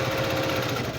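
A sewing machine stitches a quilted basket in a short steady burst, a fast mechanical whirring hum heard close and alone.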